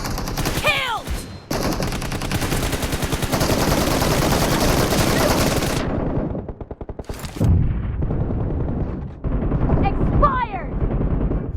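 Rapid bursts of gunfire in a PUBG Mobile team deathmatch, loud and dense automatic volleys that stop, then resume in shorter sharp shots, with game voice callouts over the action.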